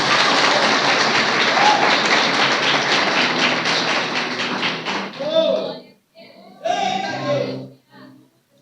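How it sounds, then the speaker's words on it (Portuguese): A church congregation applauds during a sermon, a dense wash of clapping that carries for several seconds before breaking up into short bursts mixed with voices and a few cheers. "Você pode dar um aplauso aí só para aliviar o clima, irmão?"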